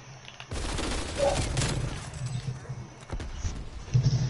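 A grenade explosion in a video game gunfight lands as a sudden broad blast, followed by a rumbling tail and scattered gunshots.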